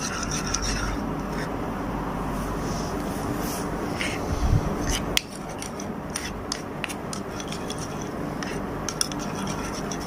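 Continuous scraping and rubbing as aloe vera gel, oil and glycerin are stirred together into a homemade cream, a steady close rasping texture with small clicks throughout and no talk.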